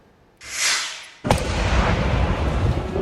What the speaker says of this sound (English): You can hear the explosions from a burning car.